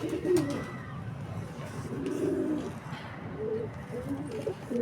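Soft, low pigeon cooing repeats in a steady rhythm, close by, with a faint rustle in the background and no voices.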